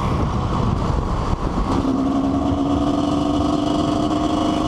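A motorcycle engine hums loud and close with a continuous drone, its pitch rising slightly partway through as the rider opens the throttle on the road.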